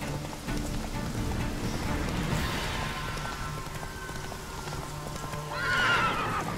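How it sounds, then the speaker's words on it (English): Horse hooves clopping steadily over rainfall in The Witcher 3: Wild Hunt, ending in a clear, loud neigh near the finish. "But come on, Roach, you dumb horse."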